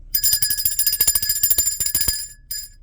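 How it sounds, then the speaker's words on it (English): A bright, metallic bell rings rapidly and repeatedly, like a bicycle bell, with a dense trill of strikes for over two seconds, then stops, with one last brief ring near the end. "Let me ring the bell of enlightenment for that."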